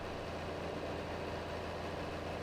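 A tractor engine idles in Farming Simulator 22, a steady, low mechanical drone that holds constant throughout without talk.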